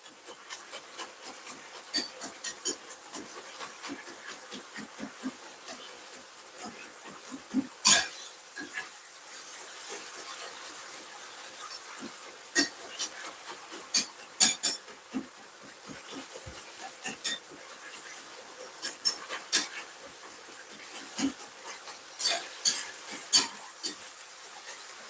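Whisk scraping and rubbing through ground beef pattie filling in a pot, a steady busy scratching with occasional sharper metallic clacks against the pot, close and continuous.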